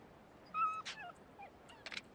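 A dog in the video game Yakuza Kiwami lets out several thin, high whimpers and yips in short bursts with pauses between them, faint and close against a quiet background with no talking.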